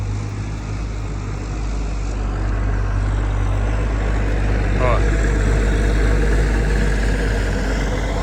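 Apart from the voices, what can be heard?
tractor driving past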